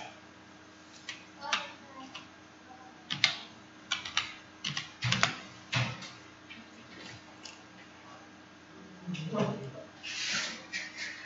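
Keys tapped on a laptop keyboard in short irregular bursts of clicks, close and moderately loud, with a faint steady hum underneath.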